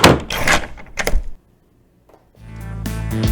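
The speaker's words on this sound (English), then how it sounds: "ushering him out into the street and locking the door behind him" A door closes with a solid thunk and a short rattle of the lock, followed by near silence and then a low background hum rising.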